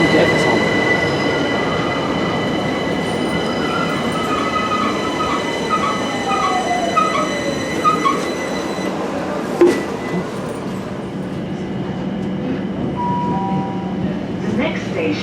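A London train rolls toward Euston station with a steady, loud rumble of wheels on rail, a rising squeal partway through and a brief clank near the end, heard from inside a carriage.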